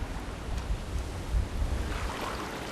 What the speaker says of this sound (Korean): 만조 때가 되면 바닷물이 밀려 들어와 유수지에 가득 찬다.